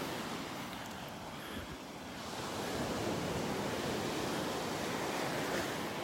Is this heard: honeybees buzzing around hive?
no